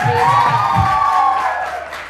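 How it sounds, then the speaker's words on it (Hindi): A studio audience at a weekend talk show cheers and whoops loudly, with scattered clapping, in one close, full burst that fades slightly at the end. "तालियां हो जाए बेला के लिए खास"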